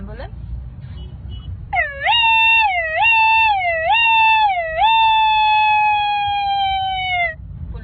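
A person's voice imitates an ambulance siren, a loud close wail that swoops up and down in four repeated cycles and then holds a long, slowly falling tone before stopping.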